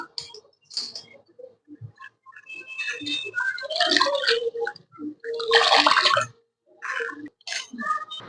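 Water is wrung hard out of a soaked pickle ingredient by hand while preparing a khar pickle, producing close, uneven bursts of squelching and trickling water separated by brief gaps.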